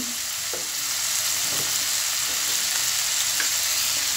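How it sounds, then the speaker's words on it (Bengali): Salted boiled potatoes are stirred in a pan over a medium flame, giving a constant loud sizzle with a few soft scraping knocks from the spoon, close up and without speech. "লবণটা দিয়ে ভালোভাবে মিক্সড করে নিচ্ছি"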